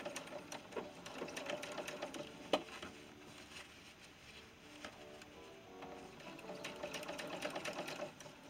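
Sewing machine stitching a sleeve onto a small doll dress shirt, with a soft steady mechanical whirr and needle patter, quiet and close, pausing briefly then running again.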